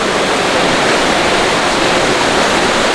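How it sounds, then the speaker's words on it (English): Pam Bok Waterfall in Thailand, a steady, loud roar of falling water close by, a dense unbroken rush with no voices over it. "we've just stumbled across a waterfall. Pam Bok Waterfall"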